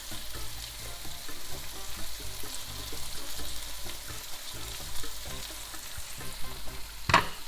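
Pieces of salt cod fry in a pan with a little extra oil, a continuous close crackling sizzle with faint stirring bumps and a sharper clatter near the end.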